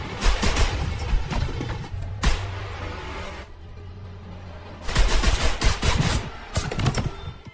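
Gunfire from armed men in an action film shooting into a bed, with loud bursts of shots in several clusters separated by quieter stretches of background sound.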